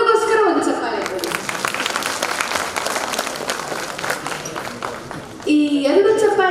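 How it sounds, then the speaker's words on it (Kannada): Audience applause for the children at a children's song-singing audition, a dense burst of clapping from a crowd lasting several seconds, with a speaking voice just before it starts and again as it dies away. "ಇಲ್ಲಿರುವಂತಹ ಎಲ್ಲ ದೊಡ್ಡವರು ಈ ಮಕ್ಕಳಿಗೋಸ್ಕರ ಒಂದು ಚಪ್ಪಾಳೆ ಕೊಡಿ."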